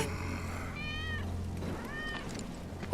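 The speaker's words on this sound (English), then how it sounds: "That's Wedge's cat." A cat meowing in the Final Fantasy VII Remake video game, two distinct plaintive meows over a low steady game background hum.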